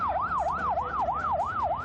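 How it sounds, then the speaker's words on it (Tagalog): An ambulance siren wails in a steady rising-and-falling cycle, loud and close, arriving at a shooting scene with road traffic rumbling underneath. "dumating na ang mga ambulansya na siyang nagsugod sa kanila sa East Avenue Medical Center"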